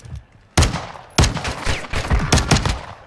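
Gunfire in a shooter video game comes in sharp, loud bursts after a quiet start: a single shot, then rapid volleys of cracks and clattering reports, close and dense.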